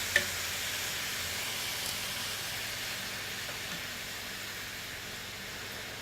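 Lime chicken frying in a pan, a steady soft sizzle holding at a low level throughout with no talk over it.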